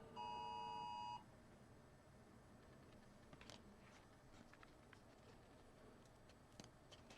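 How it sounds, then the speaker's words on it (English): An Amber Alert tone on a phone sounds as one steady, piercing electronic beep lasting about a second. It is followed by quiet room noise and faint rustling. "Got an Amber Alert coming over on my phone."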